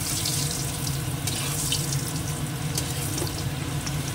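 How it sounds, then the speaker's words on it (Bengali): Papad frying in hot oil gives a loud, continuous hissing sizzle close by, steady and unbroken for a few seconds with no voices over it. "তেলটা গরম হয়ে গেছে, এবার এই পাঁপড়গুলো ভেজে নেব।"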